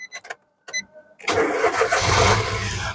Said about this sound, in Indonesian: Terus barulah kita coba nyalakan mobil.